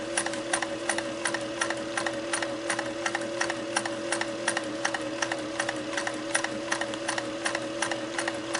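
A restored Singer Model 404 domestic sewing machine stitches long stitches at a steady pace, its needle bar giving a fast, even tapping rhythm over a continuous motor hum, close and alone with no talking.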